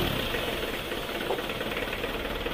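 Horse-type diesel engine cold starting and settling into a steady, dense rumbling idle, close and loud with no talk over it.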